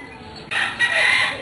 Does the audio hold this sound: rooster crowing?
yes